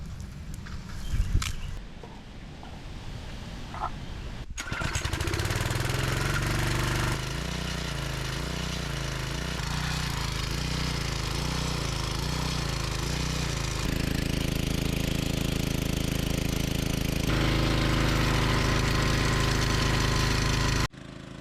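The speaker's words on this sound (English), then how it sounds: "this is the first time I've cranked this pressure washer up in a couple years" A gas pressure washer engine being started after sitting unused for a couple of years, with a few sharp clatters before it catches, then a loud steady engine drone close by until it cuts off at the end.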